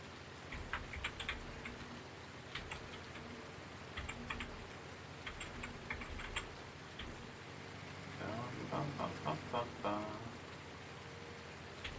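Steady rain falls in Farming Simulator 19, a broad even hiss with soft patter that runs the whole time, and a faint clicking like keyboard taps sits under it.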